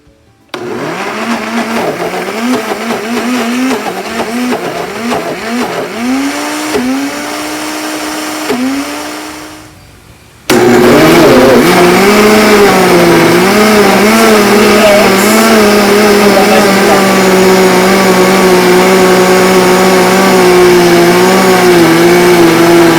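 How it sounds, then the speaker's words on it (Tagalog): A kitchen blender whirs steadily while mixing banana, sugar and oil, first at one pitch with shifting load, then cutting out and restarting louder and higher, running continuously for a long stretch. "banana, the sugar, and the oil in the blender."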